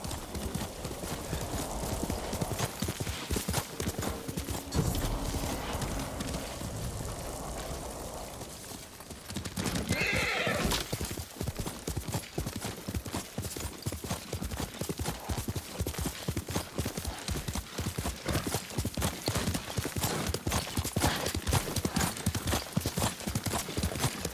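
A horse gallops steadily with rapid, continuous hoofbeats, loud and close, and a brief whinny rises partway through amid ambience in the video game Ghost of Tsushima.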